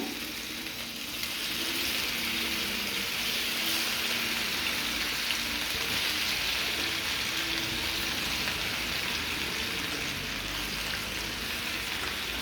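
Chicken pieces fry in hot coconut oil in a pan, giving a steady, dense sizzle that fills the whole stretch, loud and close, with no voices over it.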